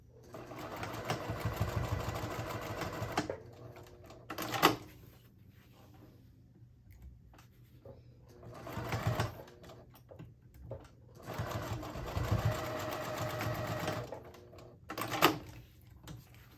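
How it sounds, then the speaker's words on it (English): A sewing machine runs a second line of stitching along the top seam of a color-block fabric wristlet, whirring in long steady bursts separated by short pauses and brief quick stitches, close and clear with no talk. "I just like to go over and do a little second row of stitching here"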